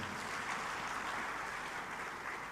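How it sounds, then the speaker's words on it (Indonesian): Applause from the audience at the Reforma Agraria Summit in Bali, a steady, even wash of many hands clapping in a large hall, sustained and moderately distant, without speech. "Tepuk tangan untuk Bapak Ibu sekalian."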